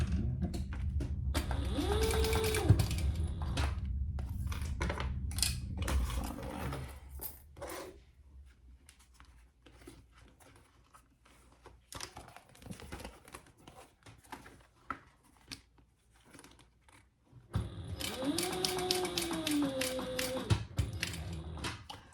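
A sewing machine stitches a clear vinyl pencil pouch, with quiet mechanical clicking and rattling in the middle stretch, between longer spells of talk at the start and end.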